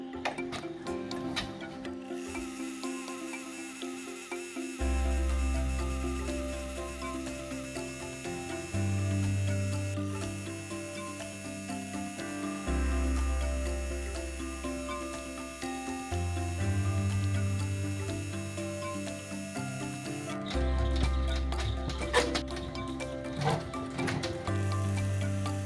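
A home embroidery machine stitches the main design of a hair bun bling pattern, a steady mechanical tick-tock hum that shifts pitch in blocks as stitch speed changes, running close and alone for the whole stretch.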